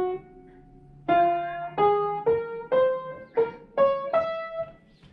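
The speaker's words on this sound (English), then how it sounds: "I have five straws of different lengths. So I can make five different tones." A homemade pan flute made of five plastic straws of different lengths plays a run of short breathy tones, each held briefly, stepping through different pitches one after another, close and alone.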